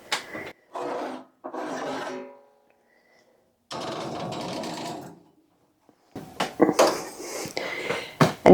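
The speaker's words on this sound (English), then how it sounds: "I'm going to get all the dishes washed, put the clean dishes away, wash the dirty dishes" Dishes being washed and put away in a home kitchen after a skillet meal goes into the oven, with bursts of clattering, scraping and rubbing separated by short pauses, then denser clinks near the end.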